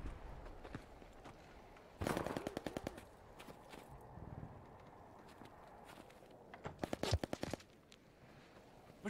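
Heavy automatic gunfire in the Call of Duty: Vanguard beta patrol mode, loud rapid bursts around two seconds in and again near seven seconds, with scattered shots and shuffling steps in the quieter stretches between.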